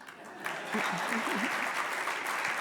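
Audience applause at a winter meeting's opening plenary luncheon, a dense wash of clapping that swells after a brief pause and holds steady, with faint talk beneath it.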